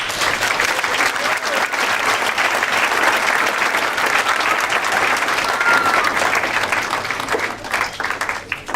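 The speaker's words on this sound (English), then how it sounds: "Marcia deserves a big round of applause for that" A closing ceremony audience gives a community educator a sustained, loud round of applause, dense even clapping filling the room for nearly nine seconds with a faint voice or two.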